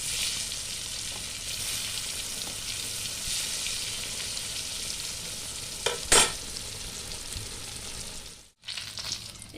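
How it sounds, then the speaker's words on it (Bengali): Eggplant frying in hot oil, a steady close sizzle that runs on continuously, with a brief clatter of a utensil partway through and a short drop before the sizzle resumes. "বন্ধুরা আমি এবার বেগুনটাকে এপিট ওপিট ভালো করে লাল করে ভেজে নেব।"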